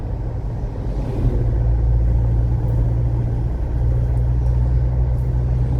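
A car travelling the highway from Bangil to Probolinggo, Pasuruan, avoiding the toll road, with a steady low engine and road rumble inside the cabin, continuous and fairly loud throughout.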